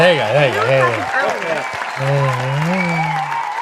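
A recorded crowd-applause sound effect, played on a live-streamed book club, hisses steadily beneath a close voice talking throughout.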